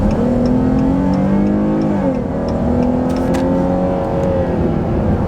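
A 2019 Chrysler 300 V6 accelerates hard, its engine note rising through the revs, dipping briefly at a shift and then climbing again, heard loud and close from inside the car.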